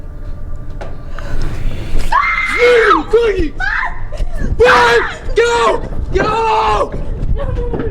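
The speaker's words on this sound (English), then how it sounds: "They started screaming." Several people scream loudly inside a dark attic in shrill, overlapping bursts that rise and fall, mixed with gasps and nervous laughter.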